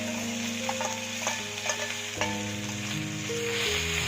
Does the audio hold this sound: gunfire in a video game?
no